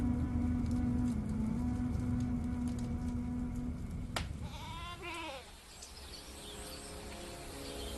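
Sheep penned among ancient kiln ruins outside a village in Shanxi, China, give a short, wavering bleat partway through, moderately close over a steady rural background hum.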